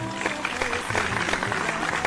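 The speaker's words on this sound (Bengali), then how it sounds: "একটা জোরে হাতে তালি সবাই" An audience at a singing competition semifinal claps together in a dense, continuous burst of applause lasting a couple of seconds, with no clear voices.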